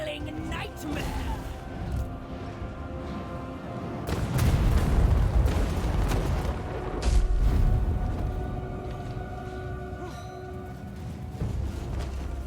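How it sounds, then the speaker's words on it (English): A tower in a Warhammer battle game sets off explosions that knock units down, heard as deep, muffled booms rising twice over a constant rumbling battle din. "Tower has a kind of explosion damage that knocks down."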